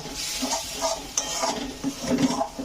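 Egg curry masala being stirred and sautéed with small splashes of water in a pan, rhythmic spatula scrapes and clinks over a low sizzle, close and alone without voices.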